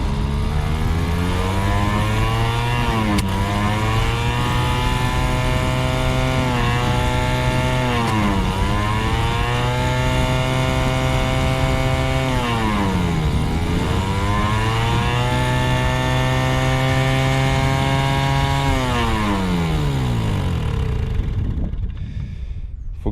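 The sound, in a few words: Mobyx moped engine starting and running after 40 years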